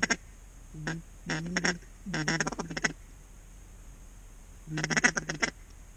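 Ducks quacking near a creek during a waterfowl hunt, several bursts of rapid, nasal quacks in clusters with short pauses between, fairly close and clear over a quiet, steady outdoor hiss.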